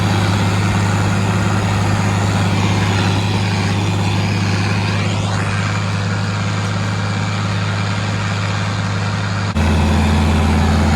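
Tractor engines run steadily in fifth gear at about 1600 RPM while pulling discs in a field, giving a constant heavy, low drone whose tone shifts abruptly near the end.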